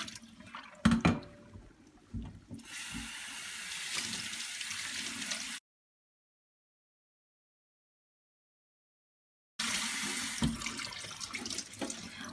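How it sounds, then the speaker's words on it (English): Cold tap water runs steadily over gluten-free noodles being rinsed in a sink, a continuous splashing hiss broken by a few seconds of silence before the flow resumes. "you're going to rinse it just under cold running water"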